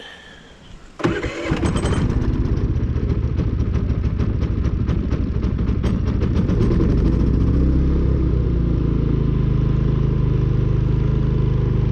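A Harbor Freight Predator 3500 inverter generator is pulled into life with a brief cranking burst, then settles into a steady, loud, close engine drone that holds evenly to the end.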